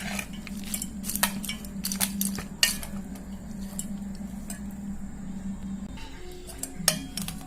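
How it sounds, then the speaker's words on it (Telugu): Lemon rice pulihora being stirred with ginger, lemon juice, salt and turmeric: a spoon scrapes and clinks against a metal vessel in frequent, irregular close taps, with a steady low hum beneath. "ముందుగా నానబెట్టి పెట్టుకున్న అల్లం, నిమ్మరసం, సాల్ట్, పసుపు ఇవి కూడా ఇందులో వేసుకొని బాగా మిక్స్ చేసుకోవాలి."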